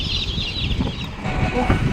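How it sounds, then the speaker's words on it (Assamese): Chicks of local chicken, ducklings and broiler chicks for sale, a dense clamour of high cheeping and peeping from many young birds close by, steady throughout with low background bustle. "লোকেল কুকুৰা পোৱালি, আকৌ হাঁহৰ পোৱালি আৰু কয়লাৰৰ পোৱালিও পোৱা যায়"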